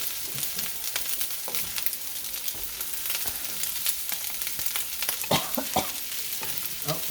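Turmeric fried rice with ham is stirred in a hot pan, a steady sizzle broken by repeated scraping clicks of the spatula, close and fairly loud with no talking.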